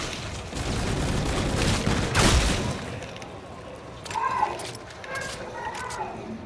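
Gunfire from the video game Call of Duty: Infinite Warfare in zombies mode, with a dense rattle of shots and a loud burst near the middle, followed by lighter pops and game effects.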